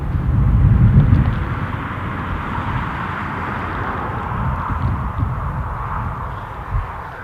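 A Ryanair jet departs Newcastle International Airport for Faro, its engines giving a steady distant roar that swells briefly at the start and then holds at a moderate level, with faint outdoor background noise.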